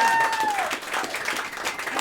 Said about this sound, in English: if you want to give me one more round of applause